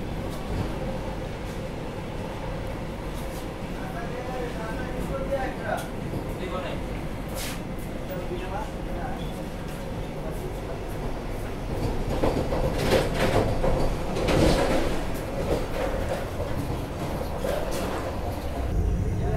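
Jan Shatabdi Express train running on the Jabalpur to Bhopal route, a continuous rumble of rolling carriages with clattering wheels that grows louder toward the end, with people talking over it.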